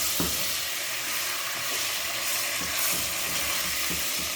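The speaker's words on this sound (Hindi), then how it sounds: "चिकन को हम इतना फ्राई करेंगे कि इसका कलर चेंज हो जाए।" Chicken pieces fry with salt in a karahi, giving a steady broad sizzle with occasional soft clinks and scrapes of stirring, fairly quiet and with no talking.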